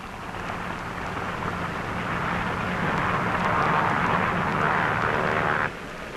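Navy F6F Hellcat control planes are catapulted from the flight deck of the carrier USS Shangri-La at sea, a loud, building roar of aircraft engines that swells steadily, then drops abruptly near the end.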